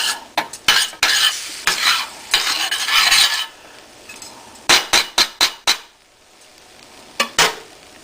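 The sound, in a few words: stirring sauce in a pan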